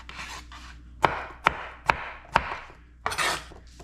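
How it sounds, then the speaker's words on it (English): A knife slices through peeled red potatoes on a board, four sharp, evenly spaced cuts landing close and crisp, with softer scraping and handling sounds before and after. "Cut it in, pull your knife through."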